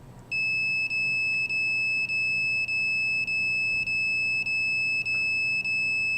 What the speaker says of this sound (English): The detector went off.